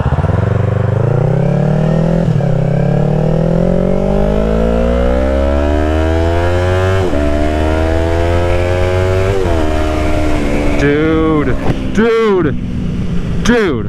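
A Yamaha R3 streetfighter motorcycle pulls hard through its gears, loud and close. The engine note climbs and then drops at each smooth shift, with a brief spoken exclamation near the start.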